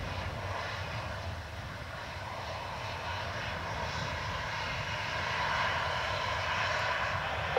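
A steady, continuous roar of airliner engines at Dublin Airport, broad and fairly loud, swelling slightly toward the end, with no speech.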